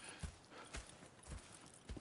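Horse hooves clip-clopping on the ground in Red Dead Redemption 2: a handful of soft, separate hoof thuds at an uneven walking pace, fairly quiet, with no other sound.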